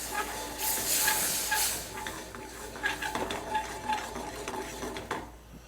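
A whiskey glaze bubbles and hisses in a pan as the alcohol cooks off, a steady sizzling simmer broken by light clinks of a utensil against the pan.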